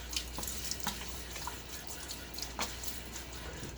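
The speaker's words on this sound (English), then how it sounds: "All right, water on my face." Tap water runs steadily into a sink, with light splashes and drips as water is cupped onto a face before a wet shave, close and fairly quiet.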